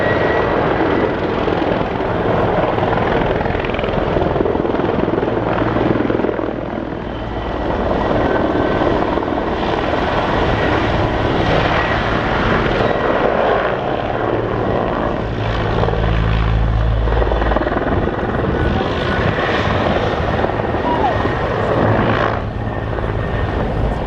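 An Airbus Caracal military helicopter, the Cougar or Super Puma variant, flies at an air tattoo with a loud, continuous rotor and turbine roar that swells and dips slightly throughout, with no talk.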